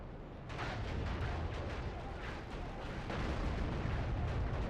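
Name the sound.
weapon fire from a mech in Steel Battalion: Heavy Armor video game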